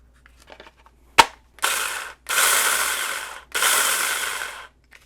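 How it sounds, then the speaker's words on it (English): A guard is fitted back onto a 6-inch cordless electric mini chainsaw and its nut threaded into place, with a sharp click followed by three longer ratcheting, grinding mechanical bursts, close and loud in otherwise quiet surroundings. "Then we can put our guard back on and thread the nut into place."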